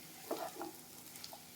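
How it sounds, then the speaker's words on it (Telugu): Chinese-style idli pieces tossed with sauces and frying in a pan, with soft crackling sizzle and a few brief stirring scrapes, quiet and close with no talking. "మనం యాడ్ చేసిన ఇడ్లీ అంతా కలిసిపోయింది కదా, వీటిని బాగా ఫ్రై చేసుకోవాలి."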